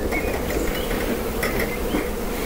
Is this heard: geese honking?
no